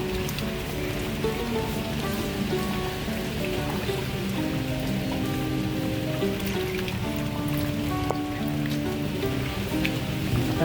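Heavy monsoon rain pours down in a dense, continuous wash of patter and splashing drops, steady and close for the whole stretch, with no voices.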